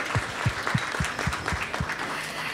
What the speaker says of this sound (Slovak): tento potlesk patrí opäť už tretíkrát tebe